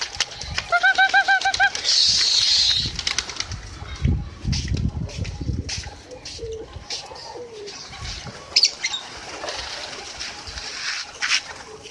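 Pigeons coo softly and repeatedly nearby on a rooftop at dusk, with wing flutters and a rustle of movement, followed by quieter scattered bird sounds and background noise.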